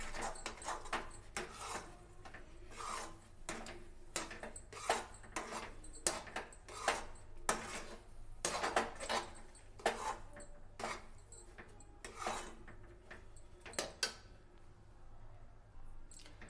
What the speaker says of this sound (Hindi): थोड़ा सा घी और ऐड करेंगे इसमें हम और इसको अच्छे से हम मिक्स कर देंगे।